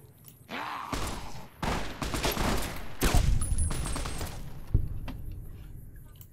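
Gunfire erupts in the Fallout New Vegas video game during an ambush, repeated bursts and single sharp shots coming in clusters, some ringing loudly and others more distant, with brief gaps between volleys.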